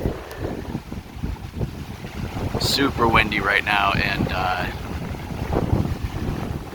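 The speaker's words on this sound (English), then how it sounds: "It's super windy" Strong wind buffets the microphone on an exposed lakeside peninsula on a cold autumn backpacking trip in the Porcupine Mountains, roaring steadily throughout while a person talks over it.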